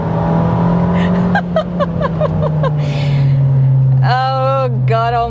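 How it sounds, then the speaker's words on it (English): An Abarth 595 Competizione exhaust drones loudly and steadily, a quick series of sharp crackles and pops riding on top, and a voice comes in over the engine near the end. "you hear the sounds out of the exhaust"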